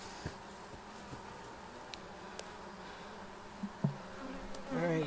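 Honeybees drone in a steady, faint hum around beehives during a hive inspection, with occasional soft knocks and handling sounds, and a louder close buzz rising at the end.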